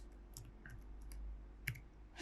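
Quiet computer mouse clicks, a right-click while editing in Adobe Premiere, land as two or three brief, faint ticks against a low room hum.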